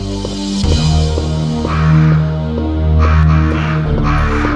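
Crows caw in the 1996 original Resident Evil: loud, low, repeating pulses in a steady rhythm, swelling and fading twice over a droning background, with no talking.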